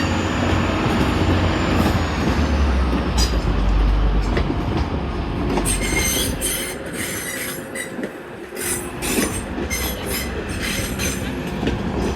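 A Class 156 diesel train rumbles in with a loud, steady drone, wheels squealing and clicking over the rails as it slows into Manchester Piccadilly station.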